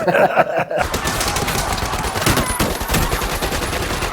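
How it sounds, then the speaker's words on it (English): Grease gun bursts in a WWII movie scene, a dense close rattle of automatic gunfire that continues almost without pause after a brief opening moment. "The two dudes just start lighting them up with grease guns"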